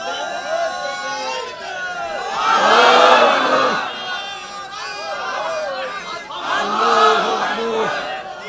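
A crowd at a Bangla waz religious gathering chants slogans in loud unison, rising in two strong surges between quieter stretches of massed voices.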